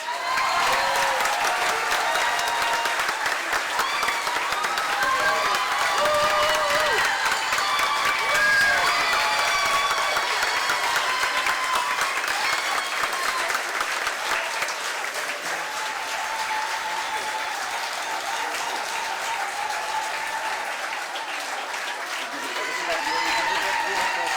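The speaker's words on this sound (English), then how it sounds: "The last applause to Ostrobovice" Sustained, dense applause from a large audience at a European floral awards prize-giving ceremony, a continuous roar of clapping for over twenty seconds with some crowd voices and cheering mixed in, easing slightly toward the end.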